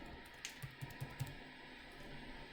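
A password typed on a computer keyboard, a short run of four or five soft key taps in quick succession, faint and close over a low steady room hum.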